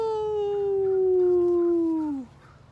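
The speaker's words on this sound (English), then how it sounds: "Sam raised his head and out poured a long, aching howl" One long dog howl, loud and close, holds a steady pitch and then falls away near the end, followed by a short quiet tail.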